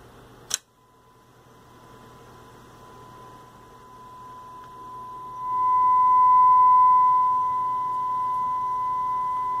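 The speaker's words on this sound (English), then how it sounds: "Let's listen to it at a kilohertz." After a brief click, a steady 1 kHz test tone played from tape hums over faint hiss, swelling louder partway through and holding steady.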